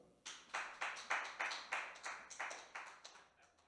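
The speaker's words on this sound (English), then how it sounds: "Please, a big round of applause for Zach DeZuba." Audience clapping for a guest introduced on a comedy variety show: about a dozen sharp, evenly spaced claps in a steady rhythm, fairly close and clear, with no talking over them.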